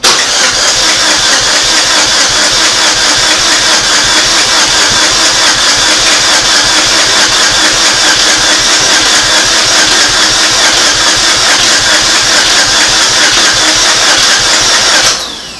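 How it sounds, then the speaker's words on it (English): A 2006 Saturn Ion engine cranks steadily on its starter with the fuel injectors disconnected, so it never fires. The loud, even whirring churn runs for about fifteen seconds with no talking and then cuts off abruptly as the starter times out. "It's cranking. The starter just timed out."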